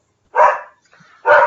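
Pet dogs in a home give two loud, sharp barks about a second apart, close and clear with quiet between them.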